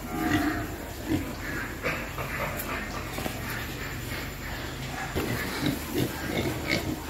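Gilts around 40 kg at a Vinh Long pig farm produce a steady, moderately close mix of grunts and snuffling with scattered louder bursts over constant farm background noise.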